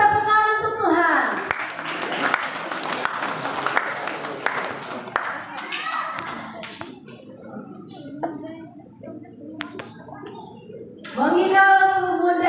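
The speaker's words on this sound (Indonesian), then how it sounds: "Majelis mempersilakan, beri tepukan untuk Tuhan." Church congregation applauding before a Mengigol Sumundai dance performance, a scattered clapping crowd mixed with voices and a speaker addressing the room.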